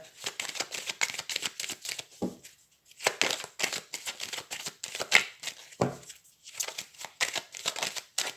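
Tarot de Marseille cards shuffled by hand in repeated bursts of crisp riffling and flicking, close and fairly loud, with two short pauses between rounds and no talking.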